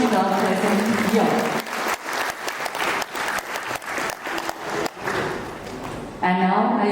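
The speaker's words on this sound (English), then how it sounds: "I will urge each and everyone present here to give a round of applause to Sister Ashmita present here." Applause from an audience at a formal event, uneven clapping with thuds and gaps running for several seconds, and a speaking voice heard briefly at the start and end.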